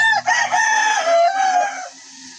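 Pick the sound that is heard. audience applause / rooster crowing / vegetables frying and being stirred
rooster crowing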